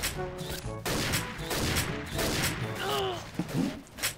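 Gunfire from the online shooter XSHOT, including an APC-800 sniper rifle, bursts repeatedly over about four seconds, loud and dense with game effects, while players talk excitedly over the shots.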